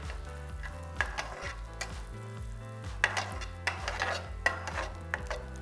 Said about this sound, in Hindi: तो हम थोड़ा सा फ्राई करेंगे 1 से 2 मिनट के लिए।